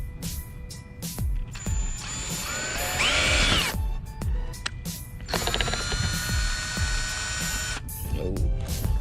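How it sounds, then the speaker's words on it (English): A power drill bores holes to mount a front lip splitter on a 2022 Toyota GR86, running in two whirring bursts with pitch rising as the motor spins up, close by, separated by brief pauses and light handling clicks. "Let's go ahead and start drilling."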